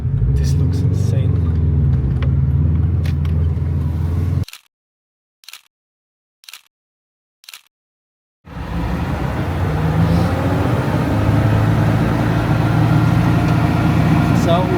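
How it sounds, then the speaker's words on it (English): A Lamborghini Diablo GT2 driving on Japanese streets gives a loud, close engine rumble that cuts out for a few seconds, then returns just as loud. "we are in the Diablo now, on the streets of Japan"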